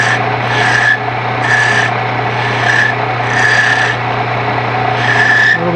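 A gouge shapes a wooden finial spinning on a lathe, rasping in rhythmic bursts about once a second over the lathe's steady hum, close and loud without any talk.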